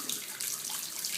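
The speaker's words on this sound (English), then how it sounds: "This tap is very temperamental. It runs and then suddenly will stop. Makes this noise." A temperamental water tap runs with a steady, close hiss of flowing water over a short stretch, with no voices.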